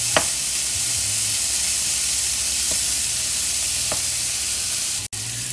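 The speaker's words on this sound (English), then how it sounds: "I'm going to cook this sausage till it turns brown" Sausage fries in oil in a pan, a steady close broadband sizzle and hiss throughout, broken by a few sharp pops and spatters.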